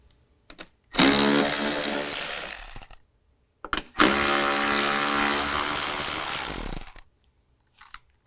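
A power tool whirs on removing the 10 mm headlight bolts from a Ford Bronco, running in two sustained bursts of about two and three seconds, loud and close, with brief clicks and handling noises between them.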